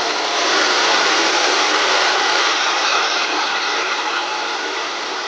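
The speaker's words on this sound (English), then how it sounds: "I set the blow dryer to low heat." A blow dryer on low heat drones steadily and close while drying a toy poodle's coat, a smooth continuous airy whoosh with no pauses.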